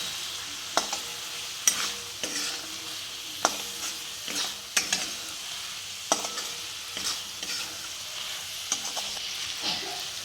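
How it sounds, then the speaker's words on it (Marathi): Boiled eggs being stirred through a sizzling masala in a pan with a splash of water for anda fry, steady frying hiss with repeated sharp scrapes of the spoon against the pan, no talking. "मिक्स करायचं थोडंसं."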